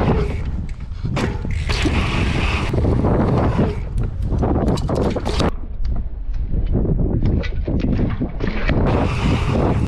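Gusty wind at a bike park in a German city, loud sustained buffeting of the microphone with rushing bursts that rise and fall across the whole stretch.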